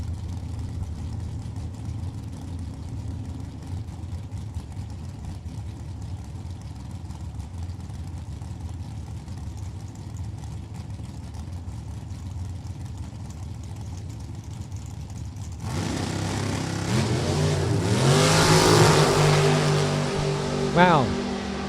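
Drag racing cars at NHRA Maple Grove Raceway, a long steady engine rumble under crowd and track noise, then a sudden louder roar as the cars launch, with an announcer talking over it.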